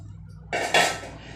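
A single metallic clank of a pot of boondi laddu sugar syrup set down on a hard surface, brief and close, in an otherwise quiet room.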